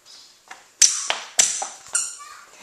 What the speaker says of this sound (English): Can you squeak your shoes? Make them squeak.